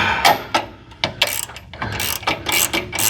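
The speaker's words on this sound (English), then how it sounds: "So we'll just keep cranking it down like this" A ratchet tightening a nut while building FC Rampside alignment bars gives a quick series of sharp, close mechanical clicks in short bursts.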